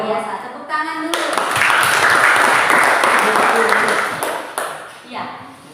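A classroom of students in an Indonesian lesson bursts into brisk, loud clapping that swells, holds for a few seconds and then fades, with a teacher's voice briefly before and after.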